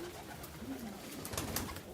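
A small brown pigeon coos softly at an animal sanctuary, a low murmuring call repeating at moderate distance with faint wingbeats and ambient room noise.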